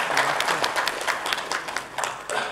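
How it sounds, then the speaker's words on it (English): Audience applause at a cheque distribution ceremony in India, honoring Sagar Sule and team, with dense, steady clapping from a crowd filling the whole stretch and no talking over it. "So a big round of applause for Sagar Sule and team also."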